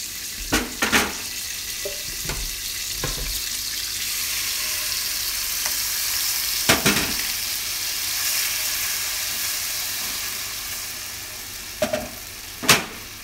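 Ground onion and garlic sauté in a pan, a soft continuous sizzle broken by several sharp clanks and scrapes of a utensil stirring against the pan.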